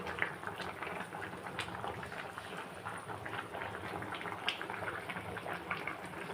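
Fish curry with tamarind, coriander and curry leaves simmers in a pot, its steady, close bubbling and popping continuing evenly throughout without any voices.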